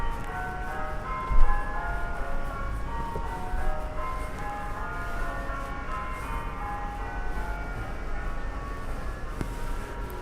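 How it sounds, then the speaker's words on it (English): Synthetic-sounding church bell chimes ring out steadily, a sustained melodic peal with a slightly electronic tone, heard from a distance over low background rumble. "Listen to those bells. Those are not real bells."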